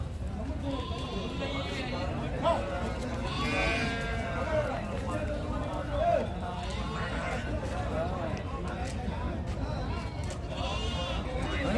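Sheep bleat repeatedly at a busy outdoor sheep market in Gudur, several near and distinct calls rising over steady crowd chatter and background noise.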